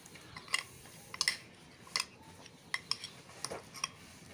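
A spoon stirs cake batter with melted butter in a bowl for an eggless mixed dry fruit coffee cake, giving sparse light clinks and scrapes at irregular intervals, close and fairly quiet with no talk.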